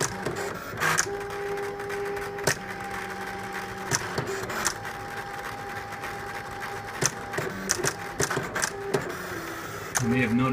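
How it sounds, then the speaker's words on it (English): A Silhouette Cameo cutting machine cuts pieces from paper, its motor whirring with short stepping pulses and clicks as the blade moves, while a person talks over it. "In some places, the Cameo will put a dot anywhere where 2 lines intersect, so the corners are nice and clean."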